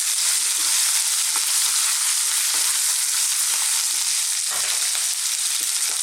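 Whole fresh chillies fry in hot oil in a pan for a potato and mushroom dish, giving a loud, constant sizzle and crackle with a few stirring scrapes and no voices.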